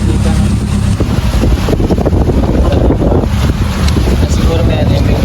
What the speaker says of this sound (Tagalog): Medyo malakas yung alon ngayon.